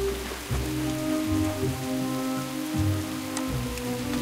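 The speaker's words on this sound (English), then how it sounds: "It's raining here." Steady rain pours in Booty Bay in World of Warcraft, a dense hiss of drops hitting surfaces with faint low game tones underneath and no talking.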